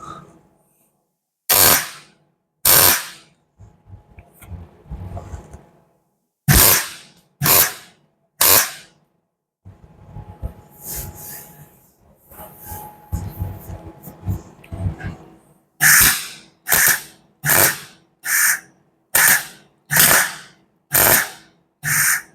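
Welding on BMW wide arch bodywork, a series of sharp, loud crackling bursts in short pulses, some grouped in quick rhythmic runs, with quieter scraping and faint talk between them.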